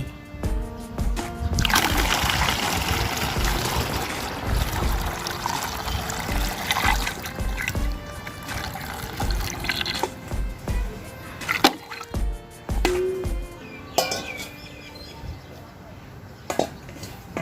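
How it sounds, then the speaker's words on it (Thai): Fermented rice-water plant hormone being poured into a bottle, a steady trickle and splash of liquid with clinks of the container, close and fairly loud, with a brief voice at the start. "จะเทใส่ขวดนะคะ เทเลย"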